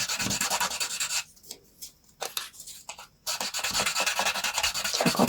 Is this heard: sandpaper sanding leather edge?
yes